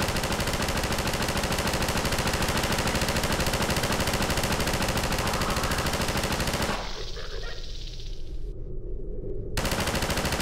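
Rapid cannon fire in Half-Life 2, a dense, loud, continuous barrage of shots filling most of the clip before dropping away briefly near the end.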